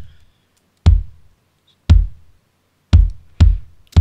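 Two layered electronic kick drums in Logic Pro, hitting as five punchy, booming thumps at uneven intervals with a sharp click on each attack and quick decay, loud and dry with nothing else playing.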